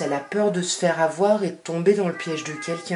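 A cat meows intermittently in the background while someone talks steadily in French over it, the cries partly masked by her voice.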